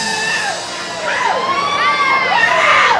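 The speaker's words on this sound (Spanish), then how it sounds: "Que sea un grito de César, César." Festival crowd at a Tejano conjunto music event in Guadalupe letting out Mexican grito shouts, several rising and falling high-pitched yells overlapping loudly over a lively crowd murmur.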